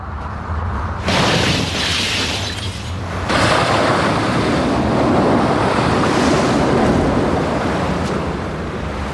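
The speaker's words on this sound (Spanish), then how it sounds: "Vientos de más de 215 kilómetros por hora sacuden a los rascacielos." Storm winds gusting above 215 km/h roar loudly and continuously, a broad rushing blast that surges after a second and builds again midway, with heavy low rumble like pounding surf.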